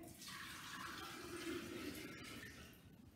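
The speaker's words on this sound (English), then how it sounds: "I'm going to pour another bowl of cold water." Cold water poured into a bowl of freshly made butter being rinsed, a steady splashing pour rising and holding for a few seconds, then tapering off, close but fairly quiet.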